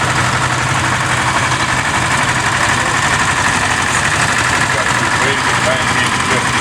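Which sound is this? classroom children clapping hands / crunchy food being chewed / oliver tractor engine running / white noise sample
oliver tractor engine running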